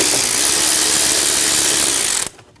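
A power driver with a T15 bit spins out intake screws on a 2012-2022 Volkswagen Passat 2.5L five-cylinder, giving a loud, steady ratcheting whir that runs about two seconds and then cuts off abruptly.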